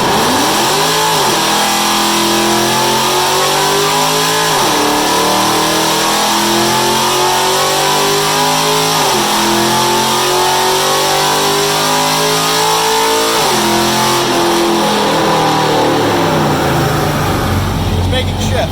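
Cammed car on a dyno revving hard through repeated rising pulls, each ending in a gear shift, loud and close, before the engine winds down at the end.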